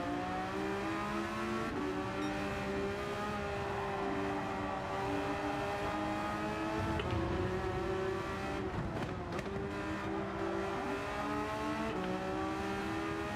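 A Porsche race car engine in Gran Turismo 7 drones steadily for the whole stretch, its harmonic pitch shifting with gear changes as it revs and eases off, loud and continuous with no talking.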